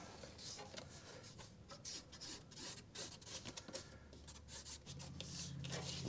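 A hole is being cut out of a template for a mini truck lowrider build, a faint, close, uneven rasping and scraping with short rhythmic strokes.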